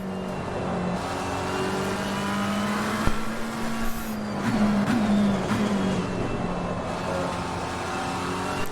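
Race car engine in Assetto Corsa Competizione, a sim racing game, accelerating at full throttle out of a corner complex onto a straight, a steady loud rising drone with gear changes and tire noise, no voices.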